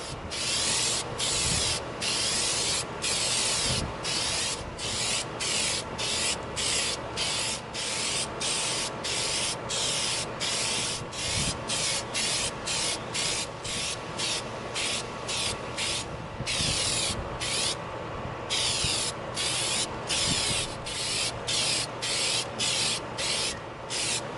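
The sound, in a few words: spray coating EVA foam prop with Plastidip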